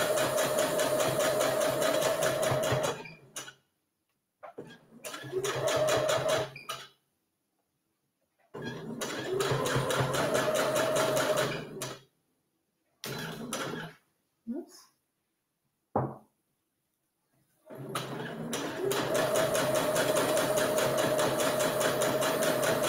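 A sewing machine stitches a coffee cup cozy, running in several steady bursts with short pauses between them as a corner is worked slowly, close and fairly loud, with brief quiet gaps.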